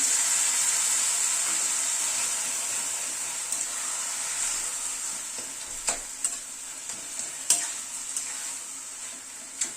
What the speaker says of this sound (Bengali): টমেটোটা দিয়ে আবার একটু কষিয়ে নেব।